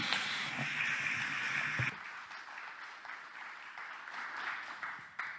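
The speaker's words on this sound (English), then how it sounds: "Thank you for the applause" An audience at a talk on European migration processes applauds, a dense wash of clapping that is steady at first, then drops to a softer, thinner patter and fades toward the end.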